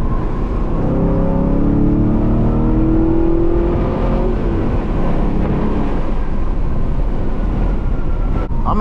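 Chevrolet Camaro 2SS 1LE with a six-speed manual accelerating hard in third gear from about 60, a loud, close, steadily rising engine roar from inside the car.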